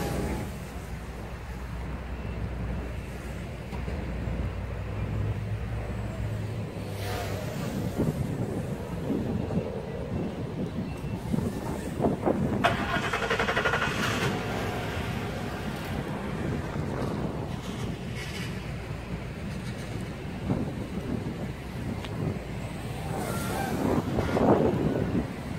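Strong outdoor wind buffets a small Kingkong Fly Egg 130 drone fitted with 1104 7500KV motors, a steady rushing roar that swells and fades throughout without a break, with no talk over it.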